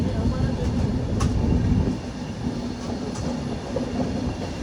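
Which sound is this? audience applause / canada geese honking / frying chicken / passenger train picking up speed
passenger train picking up speed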